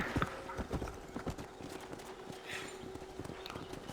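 Rapid, regular clip-clop of horse hooves trotting in the video game Red Dead Redemption, close and steady, with a faint whinny and light ambient noise behind.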